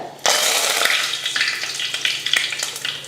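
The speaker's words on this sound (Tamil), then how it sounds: "எண்ணெய் காஞ்சதுமே வெந்தயம் வெந்தயம் பொரிஞ்சதும் கருவேப்பிலை" Fenugreek seeds and curry leaves hit hot oil for a rock fish curry, setting off a sudden loud burst of spluttering and crackling that keeps sizzling close by with sharp pops.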